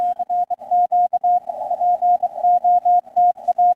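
Amateur radio CW station sending Morse code, heard as a steady single-pitch tone keyed in rapid dots and dashes, clear and alone.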